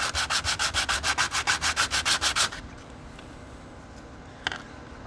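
Wooden knife handle scales get sanded with quick rhythmic back-and-forth rubbing strokes, loud and close for a few seconds, then quiet with a single light knock.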